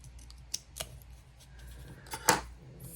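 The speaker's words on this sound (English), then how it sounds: "I'm just gonna cut off this little piece." Scissors snip a small piece of paper at a planner desk, a few crisp cuts with sharp clicks close by and no voice.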